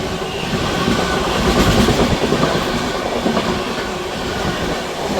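At night, a MEMU passenger train on the Vijayawada–Rajahmundry route rushes past close by, with a continuous loud roar and rhythmic clickety-clack of wheels over the rails.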